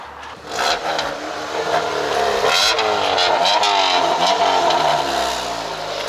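A small Honda motorcycle engine catches and revs up and down in quick surges, close and loud, with no talking.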